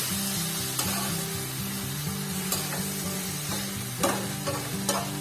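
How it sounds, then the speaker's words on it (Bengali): A spoon stirs spiced food in a frying pan seasoned with salt, chili powder and turmeric, scraping and turning in repeated strokes over a steady close sizzle, with sharp clinks against the pan. "দিয়ে দেওয়ার পরে একটু সুন্দর করে নেড়ে ফেলে ওপর নিচে করে দিই আর কি"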